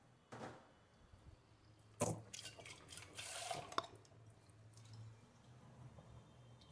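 A glass of water poured into a wide kadhai holding a steaming stand, ready for sandwich dhokla: a few short splashing, dripping bursts in an otherwise quiet kitchen.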